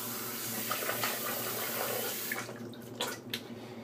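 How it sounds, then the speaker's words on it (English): Tap water runs steadily into a sink while someone rinses off during a shave, a continuous close splashing flow that eases off near the end, leaving a few small drips and splashes. "one moment, let me rinse off."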